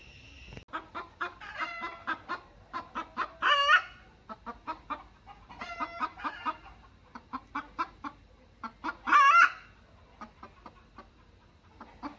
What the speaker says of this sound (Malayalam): ഇപ്പോൾ ഈ പാസ് ചെയ്ത് പോയ കോഴി ഉണ്ടാക്കിയ ഒരു ശബ്ദം കേട്ടല്ലോ